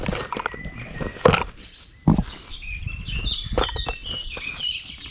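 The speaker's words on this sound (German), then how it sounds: "Hört ihr die Vögel zwitschern?" Birds chirping outdoors, thin high calls and twitters scattered through the clip among rustling and a couple of louder knocks, with a steady outdoor background.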